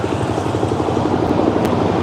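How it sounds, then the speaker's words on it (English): A military helicopter passes overhead near a military base in Thailand, a loud, steady rotor roar that fills the whole stretch with no talking. "we're gonna have a helicopter go over that might make a bit of noise. Sounds like a military helicopter."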